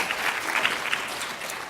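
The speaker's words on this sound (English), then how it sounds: "give yourselves a round of applause for doing that" Steady applause from a conference audience, filling the room evenly with no voices over it.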